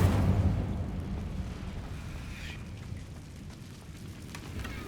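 In Hogwarts Legacy, an Incendio fire spell bursts with a heavy, low whoosh. A roaring, crackling rumble follows and gradually fades over a few seconds.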